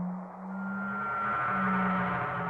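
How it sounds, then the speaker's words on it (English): The scream of the planet effect in Final Fantasy VII: a faint, sustained synthetic tone with a thin higher whine, drifting over a murky ambient bed with no voices. "That was a scream from the planet."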